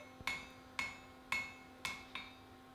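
Five ringing hammer blows on hot steel while forging a Viking shipwright's axe, evenly spaced about half a second apart, close and sharp, each leaving a brief metallic ring.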